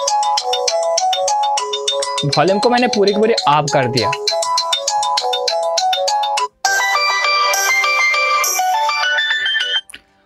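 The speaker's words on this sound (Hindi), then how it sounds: "यहाँ पर जो डिफॉल्ट रिंग मिलता है वो मैं प्ले करने वाला हूँ" The default ringtone of a Tecno Camon 16 phone plays loudly, a bright electronic looping melody, with someone speaking briefly in Hindi over it partway through.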